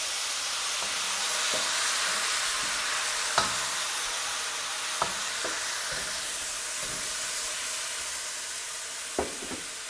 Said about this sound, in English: we now want to add in our sauce